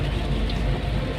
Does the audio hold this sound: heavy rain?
yes